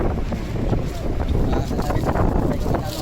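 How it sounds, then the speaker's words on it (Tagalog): Wind blows outdoors at a roadside spot, buffeting the microphone in a continuous rough rumble, with faint voices underneath. "Mahangin dito, mahangin."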